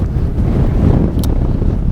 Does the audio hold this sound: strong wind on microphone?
yes